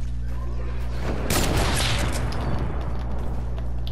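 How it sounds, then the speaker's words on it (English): A sudden burst of sniper gunfire rings out in a zombie video game, a loud broadband crack with a rolling tail over a steady low hum, then fading back into the background din. "Someone sniped someone."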